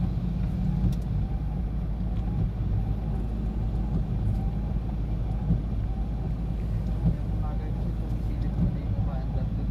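Road traffic backed up after an accident rumbles as a steady, low vehicle and engine drone with wind buffeting the microphone, while people talk throughout.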